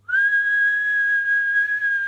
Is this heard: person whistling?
yes